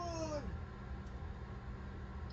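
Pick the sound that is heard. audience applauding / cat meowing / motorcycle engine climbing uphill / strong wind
cat meowing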